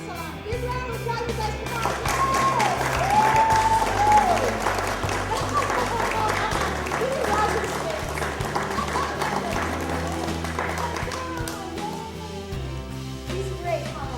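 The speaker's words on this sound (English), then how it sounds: "Big round of applause." Audience applause and cheering at a television show, dense clapping from a crowd mixed with whistle-like calls over steady low background music, sustained at moderate level.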